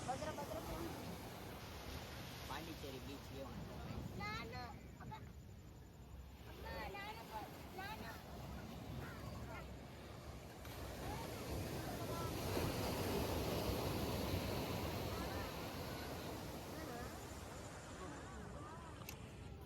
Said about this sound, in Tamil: பாண்டிச்சேரி பீச்சுக்கு வந்துட்டோம் கைஸ்